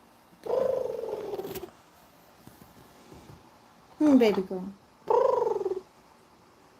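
A soft, steady purring rumbles up close in three bursts, with a voice speaking gently between them.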